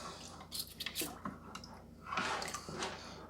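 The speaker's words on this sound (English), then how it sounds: "Just gonna stick it inside the hole, swish around both sides." Cleaning tool swished inside the hole of a Fluval Flex 32-gallon aquarium filter, giving soft wet squishing and dripping scrapes in short irregular bursts, close and fairly quiet.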